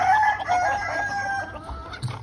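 Several chickens cluck and call in quick, overlapping bursts, with a rooster's voice standing out among them, fairly close and steady throughout, at a poultry farm.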